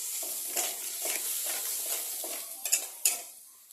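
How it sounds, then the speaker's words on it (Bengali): A potato and soybean curry cooked down with spices in a pot, a soft sizzle under rhythmic scraping strokes of a utensil, ending in a few sharper clinks, no voices. "এটাকে একটু ফুটতে দেবো, মানে জিনিসটাকে একটু মশলা সহ জিনিসটাকে একটু কষাবো।"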